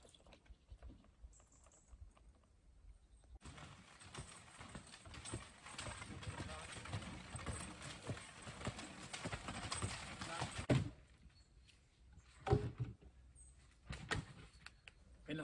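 Hooves of a cold-blooded draft horse at work at a museum clip-clop steadily through a middle stretch, with scattered knocks and clatter before and after.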